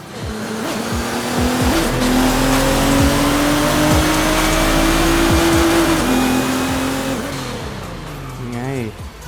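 Modified Nissan GT-R R35 in a racing video game heard from outside, a loud sustained engine roar with rising and falling revs, gear changes and tire squeal, ending in a fading, wavering pitch, dense and continuous throughout.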